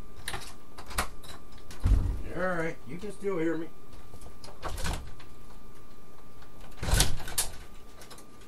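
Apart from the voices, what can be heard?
door opening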